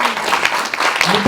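Brief applause from the audience at a round-table discussion, a short burst of scattered clapping with a voice speaking over it.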